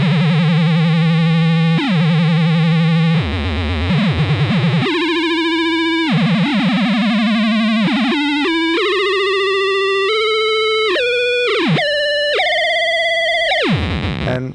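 Data Corrupter synthesizer with its master oscillator set one octave up plays loud, distorted, buzzy tones that step and glide chaotically between pitches, with sudden dives and jumps, alone and without talk.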